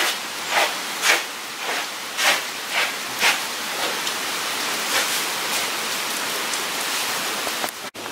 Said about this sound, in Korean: 빗소리 봐.